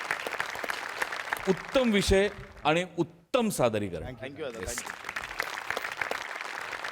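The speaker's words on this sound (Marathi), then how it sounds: "डांगे आणि सम्या दोघांसाठी एकदा टाळ्या." An audience on a Marathi television comedy show applauds after a sketch performance, with clapping at the start and the end and someone speaking clearly over the middle.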